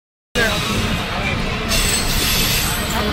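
A train runs on rails, heard up close from on board as a loud, steady rumble with a high metallic wheel squeal that starts abruptly and continues throughout.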